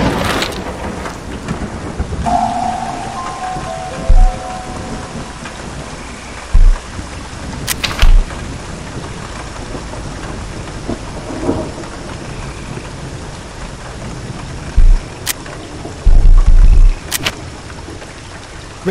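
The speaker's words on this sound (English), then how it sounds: "Hope we make it indoors before the storm hits." Steady rain with rolling thunder in the video game 9 Clues 2, heard on arrival at an island, a continuous downpour with several short, loud low thunder bursts scattered throughout.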